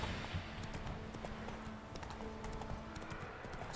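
Horse hooves clip-clop steadily on stone as Roach walks in The Witcher 3, a quiet, even rhythm of moderate-distance footfalls with no voices over it.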